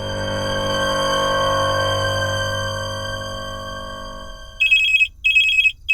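A telephone rings indoors: a sustained tonal ring first, then a loud electronic trill in two bursts with a short gap between, close and alone without talk.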